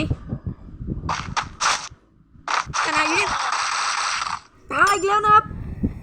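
Gunfire in the mobile battle royale game Free Fire: several short, sharp bursts are followed by a long sustained volley and then a final rapid burst, all close and loud, with a voice speaking at times.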